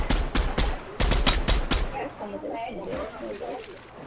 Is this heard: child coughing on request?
no